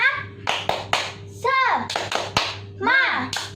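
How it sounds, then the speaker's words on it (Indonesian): Children chant and clap in rhythm during a church kids' class, sharp hand claps punctuating their sung syllables, close and lively, with an adult voice joining in. "Tepuk semangat."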